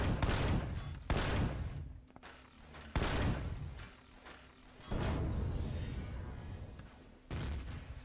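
Cannon turret firing in Empyrion: Galactic Survival, from a hover ship: about five loud booming shots spaced a second or two apart, each with a sharp attack and a rumbling tail that decays before the next.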